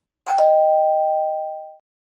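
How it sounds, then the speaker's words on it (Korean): A doorbell in an apartment rings once, striking a bright chime that holds a clear sustained tone and slowly fades in an otherwise silent space. "10분도 지나지 않아 초인종이 울렸습니다"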